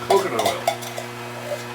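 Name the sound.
stirring food mixture in pot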